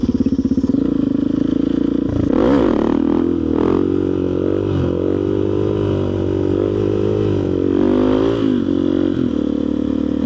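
A motorcycle engine revs hard and sustained while the rider pulls a wheelie, its loud, close roar swelling in pitch over several surges with some rattly clatter.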